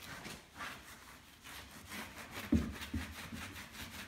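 Repeated rubbing strokes as a gloved hand wipes low-profile Pirelli tyres down with cellulose thinners to lift grease and oil, a soft rhythmic scrubbing at close range with a couple of louder bumps.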